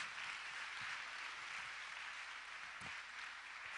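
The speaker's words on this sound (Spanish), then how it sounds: "démosle un aplauso fuerte a nuestro Dios" Steady, sustained applause from a church congregation during a worship service, a dense even wash of clapping that holds at a constant level throughout, with no talk over it.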